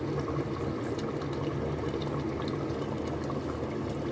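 Mutton being poured into a hot pressure cooker for a mutton curry, a steady close sizzle of meat and liquid hitting hot metal, continuous and fairly quiet with no talking.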